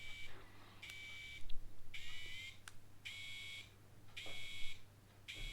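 An Ambition Soldier Max tattoo machine motor runs with a faint, steady low hum, broken by recurring high-pitched whining bursts of about a second each.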